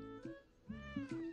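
A cartoon cat meows several times in quick succession, clear and close, the calls rising and falling in pitch with short gaps between them and no talking over them.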